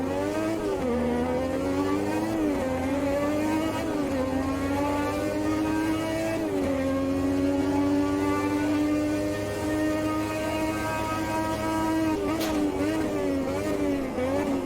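Game F1 race car, a 1300-horsepower machine, its engine holding a loud high-pitched whine that climbs steadily through the gears on a long straight at over 360 km/h, with brief dips at each shift; no talk over it.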